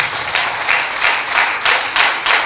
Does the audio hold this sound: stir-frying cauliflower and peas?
no